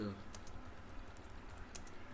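Quiet clicking of typing on a computer keyboard, a few soft keystrokes scattered across a faint background hiss, with a brief low voice at the start.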